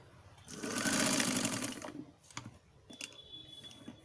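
A sewing machine stitches a designer blouse sleeve, a close, fast steady whirring run of about a second and a half, followed by scattered clicks and light handling noises.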